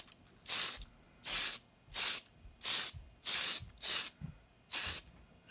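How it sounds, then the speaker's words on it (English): Flat clear coat sprayed from an aerosol can onto a model pen build, seven short bursts of hissing spray in a steady rhythm, close and alone. "So I'm literally just going to take the flat clear, and I'm just going to"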